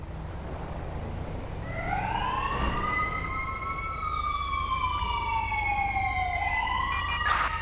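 Ambulance siren in the video game GTA 5, rising and falling wails sweeping up and down, fairly clear over a steady low engine rumble, with a second siren tone layering in near the end.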